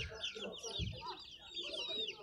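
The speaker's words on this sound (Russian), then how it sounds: "Цыплята." Faint high chirping and peeping from chicks at a market fair in Kropotkin, Russia, with low clucking and a muffled thump underneath.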